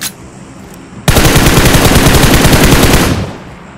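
Automatic gunfire in BGMI, a loud sustained burst of rapid shots lasting about two seconds after a quiet start, then cutting off.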